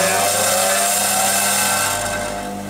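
Bench grinder running steadily while a woodturning bowl gouge is sharpened, a continuous close whining hum that starts to wind down and soften toward the end, with no speech.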